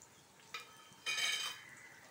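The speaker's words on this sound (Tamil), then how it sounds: "இதில் நான் உதிச்சு வச்சுருக்க இந்த வெண்டைக்காயை இதில் போட்டுக்கிறேன்" Okra pakoda dough is dropped into hot oil, with a faint tap followed by a short burst of sizzling that quickly fades in a quiet kitchen.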